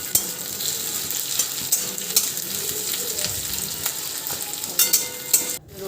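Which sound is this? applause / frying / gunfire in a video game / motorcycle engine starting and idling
frying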